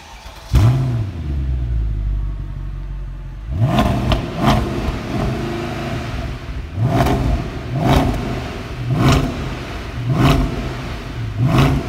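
A Mercedes C63 with a slightly modified exhaust and tune starts up and settles into a rumbling idle, then is blipped through about half a dozen sharp, loud revs. Each rev rises and falls back to idle, close and alone.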